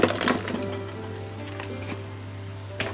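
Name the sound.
fried paneer cubes sizzling in masala pan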